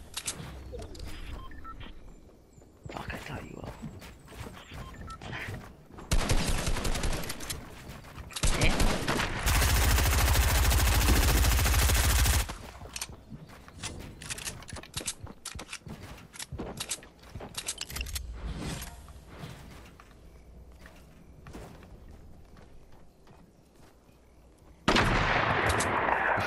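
Gunfire in Fortnite, with scattered shots and bursts across the scene, a long sustained barrage in the middle, and another heavy burst near the end.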